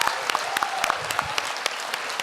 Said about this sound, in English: give him another round of applause